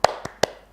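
Students in a classroom do a rhythmic spirit clap: three sharp, close hand claps spaced evenly apart, with no talking.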